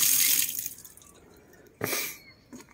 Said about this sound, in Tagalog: May gripo dito, oh.